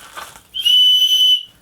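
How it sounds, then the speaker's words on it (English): A small survival-kit whistle is blown once, giving a single sharp, shrill tone of just under a second, close and loud. "they have one of these with a little whistle on the side"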